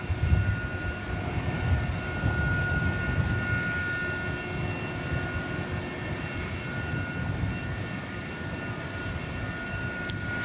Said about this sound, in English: Sounds of the planes are so relaxing.